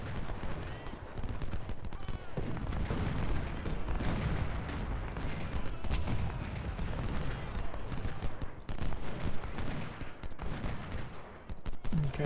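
Civil War battle sounds in the strategy game Ultimate General: Civil War at the Battle of Shiloh, with dense, continuous musket fire and cannon booms layered over one another, loud and sustained with a few sharper blasts.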